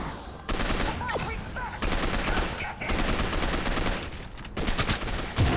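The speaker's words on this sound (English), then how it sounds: "Apparently, I cannot snipe very well with a machine gun" Sustained machine gun fire in the shooter game Gotham City Impostors, loud dense bursts rattling almost continuously with brief pauses between volleys, some faint voice underneath.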